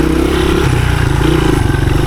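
Engine of a 1983 Honda XR200R dirt bike revving, a loud, close four-stroke chug that rises and falls in pitch while being ridden in the woods.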